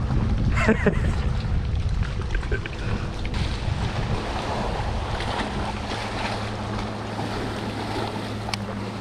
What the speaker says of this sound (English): Aw, the waves.